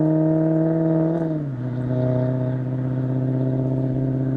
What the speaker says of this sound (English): the loud car as it goes past